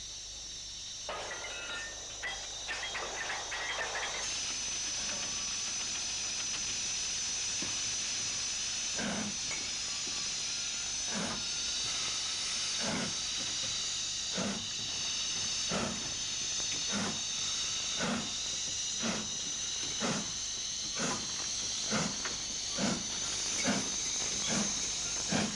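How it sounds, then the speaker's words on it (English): A Black 5 steam locomotive hisses steadily as it manoeuvres over points and track work toward a goods train, with rhythmic chuffs and wheel clanks repeating at a fairly even pace under the continuous steam hiss, heard from a moderate distance. "This Black 5 is manoeuvring over various points and track work, eventually coupling up to a goods train"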